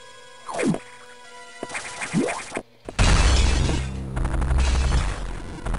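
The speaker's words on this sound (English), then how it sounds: "that terrifying noise and explosion draws our attention" In the video game Metroid Fusion, two eerie descending cries come first, followed by a loud booming explosion that rumbles on and fades out.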